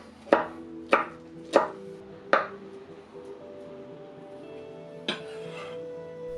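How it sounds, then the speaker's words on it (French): A knife chopping black mushrooms into brunoise on a board for Vietnamese banh goi filling: four sharp evenly spaced chops close up, then a pause and one last softer cut. "on s'attaque à la farce avec des champignons noirs que nous allons couper en brunoise"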